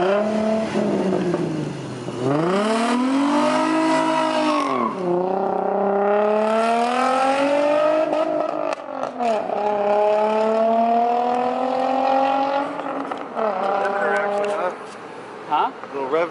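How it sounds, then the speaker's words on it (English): An Infiniti G35 engine revs hard against its rev limiter, the pitch repeatedly climbing, bouncing at the top and falling back. The sound is close and loud and runs continuously throughout. "rev limiter action"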